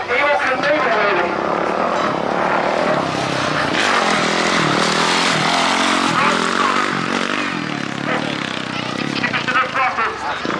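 Vintage motorcycle engine revving steadily through a wheelie stunt at a vintage rally, a loud, continuous drone heard under people talking and shouting close by.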